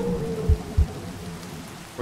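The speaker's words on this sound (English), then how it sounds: "Well, now it's raining." Rain patters in the Minecraft VR game, a soft steady hiss broken by a few low thumps, with no talking.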